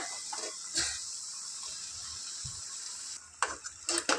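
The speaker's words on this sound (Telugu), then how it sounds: "దీన్ని ఒక 10 minutes ఫ్రై చేసుకోవాలి ఫ్రెండ్స్" Chicken biryani masala frying in a pan, a steady soft sizzle with occasional stirring scrapes and clinks of a spoon against the metal, louder bursts near the end.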